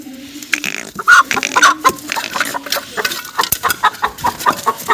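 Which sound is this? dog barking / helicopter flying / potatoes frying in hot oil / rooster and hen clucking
rooster and hen clucking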